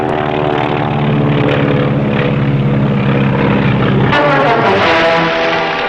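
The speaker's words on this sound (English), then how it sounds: "Plane peeling off." A propeller airplane flies overhead during a wartime sea rescue: a loud, steady, harmonic engine drone that fills the whole stretch and shifts in pitch as the plane peels away.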